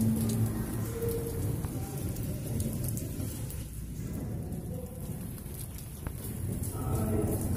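Steady, heavy rain pours down in a continuous wash during a thunderstorm in Barnala, Punjab, with low thunder rumbling beneath it throughout.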